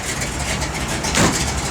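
A 1955 Chevrolet Bel Air engine idles close by in a short, steady, loud rumble, with a brief swell in the middle.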